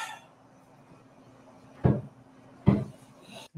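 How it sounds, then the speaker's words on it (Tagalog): A cabinet in a hotel room is kicked with a foot, giving two sharp, hollow wooden thumps about a second apart, loud against a quiet room with a faint hum. "Yung cabinet sa tabi niya, ginagano niya ng paa niya. Nisipa-sipa niya."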